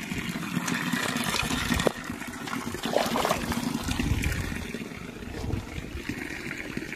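Water pours and splashes continuously at a village panghat, a communal water source for drinking, cattle and bathing in Uttarakhand, a steady close rushing flow with no talking.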